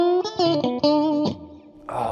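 Electric guitar notes and a chord from a Fender Stratocaster through a Mesa Boogie Mark V amp's fat channel ring out with a warm, slightly driven tone, followed by a short reverb tail and another strummed chord.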